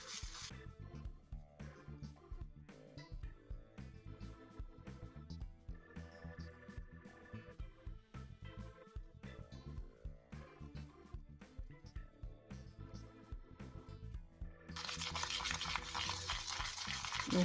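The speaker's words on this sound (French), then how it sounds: "maintenant il ne me reste plus qu'à mélanger pour obtenir quelque chose de plus homogène" A glue-free homemade slime of shower gel and powdered sugar is stirred steadily, producing soft, repeated sticky strokes that sit fairly quietly beneath a melodic music track throughout.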